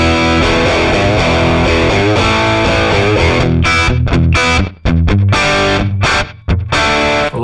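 Electric guitar played through a VOX Cambridge50 amp with slapback delay and cranked mids: loud distorted chords and riffs with a short echo trailing each note, then several choppy, stop-start strums near the end.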